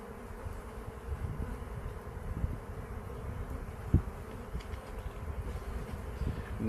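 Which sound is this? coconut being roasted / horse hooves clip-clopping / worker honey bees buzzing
worker honey bees buzzing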